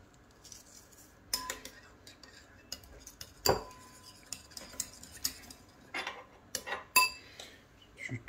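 A spoon taps and scrapes around a bowl of German potato salad being mixed with salt, giving irregular close clinks and soft stirring scrapes in an otherwise quiet kitchen.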